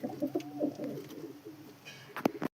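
Low, soft pigeon coos repeat through most of the stretch, with a sharp knock and a brief rustle near the end.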